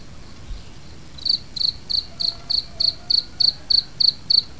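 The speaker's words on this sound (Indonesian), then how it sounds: "Sepertinya ini ada dua jangkrik tuh bergantian." Two crickets chirp in turn, producing a regular string of about a dozen sharp, high, buzzy pulses at a quick steady pace. The chirping starts after a second of quiet hiss and is heard nearby, with no voices.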